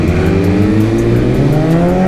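Suzuki Hayabusa motorcycles with full titanium exhausts and Sprint air filters, engines revving loudly and steadily close by with a dense rising drone.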